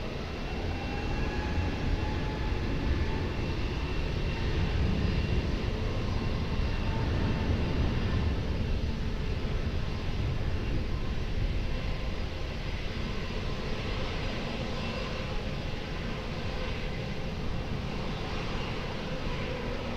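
Airliner taking off from runway 20 at Lisbon Airport, a steady, fairly distant engine roar with broad rushing noise that stays even throughout and carries no voices.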